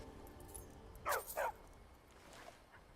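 A dog in a video game lets out two short close barks in quick succession, with faint game ambience around them.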